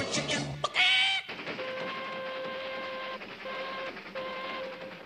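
A cartoon train runs along, a sudden burst giving way to steady, whistle-like tones that hold, break off and return over a constant rolling rumble, with no talking.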